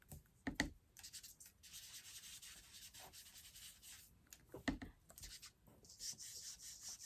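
Ink is burnished by hand onto an embossed paper card, giving soft, faint rubbing and scrubbing strokes with a few slightly louder swipes in a quiet room.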